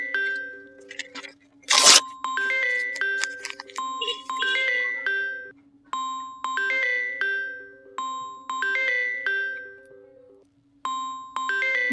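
A phone rings with a repeating electronic melody in short phrases, loud and close, after a brief crackling crunch near the start.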